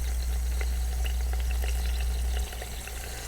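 A bone-in Boston butt pork roast sears in an Instant Pot, a low, constant hum under a fine, quiet sizzle with scattered small pops, the hum dropping slightly near the end.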